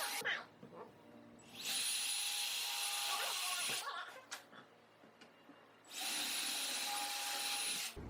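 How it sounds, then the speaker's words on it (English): A power drill bores into melamine board while a bearded dragon cage is assembled, with two separate sustained whirring bursts and softer handling noises and talking between them. "Show me how you drill."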